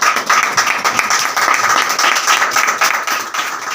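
A meeting audience at a business talk applauds loudly, with dense, steady clapping that fills the whole stretch without a break, and no voices stand out above it.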